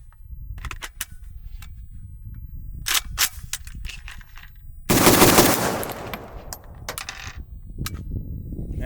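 An AK rifle fires cheap steel-case ammunition: one loud, close burst of rapid shots stands out after a few scattered clicks and handling noises.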